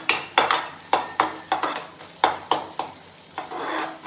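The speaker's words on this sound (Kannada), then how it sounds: "ಚೆನ್ನಾಗಿ ಫ್ರೈ ಆಗಬೇಕು." Rava upma fries in a pan while a utensil stirs it in quick, regular scrapes, each stroke a sharp scratchy burst over a soft continuous sizzle, close and fairly loud.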